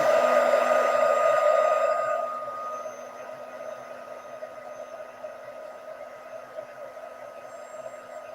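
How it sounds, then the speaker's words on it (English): A heat gun blows on white ink on a card, a loud steady whirring hiss for about two seconds that then drops to a softer continuous blowing drone. "I think I'll just give it a quick heat gun."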